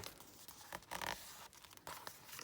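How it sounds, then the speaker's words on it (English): Paper folded over to make a flap on a junk journal pocket: soft crinkling and crisp tearing-like rustles in a few quick bursts, close and quiet, with no voices. "So let's just fold that over at the top"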